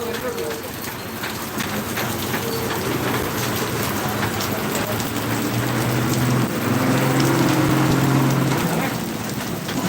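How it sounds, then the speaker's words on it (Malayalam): Heavy rain pours steadily in Kottarakkara, Kerala, a dense hiss of drops hitting surfaces throughout, with a voice talking faintly beneath the downpour. "അതിഭീകരമായ മഴ ഒരു പതിനഞ്ച് ഇരുപത് മിനിറ്റായിട്ട് തുടർച്ചയായിട്ട് പെയ്തുകൊണ്ടിരിക്കുകയാണ്"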